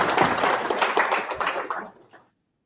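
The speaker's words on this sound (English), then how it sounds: "applause." Audience applause at a PyMunich Python meetup, a full room clapping steadily and fairly close, then fading out into silence after about two seconds.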